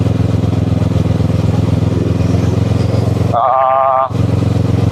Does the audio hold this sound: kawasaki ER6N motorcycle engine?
yes